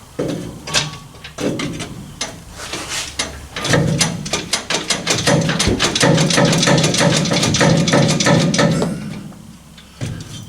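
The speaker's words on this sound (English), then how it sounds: "put it onto this pipe first, and then I'll get it hopefully aligned up to the other one, and then slam them home" Exhaust pipes on a Ford F100 with a 302 small block are worked together, giving a string of close metallic clanks, scrapes and knocks that build into a dense rattling run before a final clunk.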